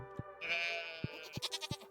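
A sheep from the farming game Stardew Valley gives a single clear bleat, followed by soft footstep-like taps against a steady tonal background, with no talking.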